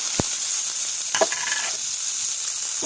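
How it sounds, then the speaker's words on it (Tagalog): Ingredients for pata paksiw sautéing in a very hot pan, with a steady hiss of sizzling oil and a few brief stirring clatters near the start and middle. "aking igigisa na guys ang ating mga sangkap"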